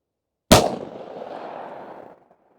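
A single sharp gunshot from a 2-inch Smith & Wesson 605 revolver firing full-size ammunition, loud and close, with a sudden crack followed by a rolling outdoor echo that fades over about two seconds.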